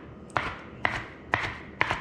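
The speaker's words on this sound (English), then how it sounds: "chop them roughly" Knife chops land on a cutting board four times in an even rhythm, each a crisp, close thud with a brief scraping tail, as omelette ingredients are roughly chopped.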